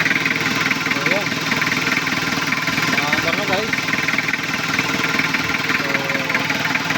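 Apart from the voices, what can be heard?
1991 Toyota Hilux 3L diesel engine running after starting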